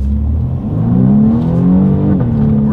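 2020 BMW M235i Gran Coupe in sport mode pulling away from a complete stop and heading uphill, its engine heard loud from inside the cabin with a smooth, rising growl as the revs climb, then a brief dip at a gear change.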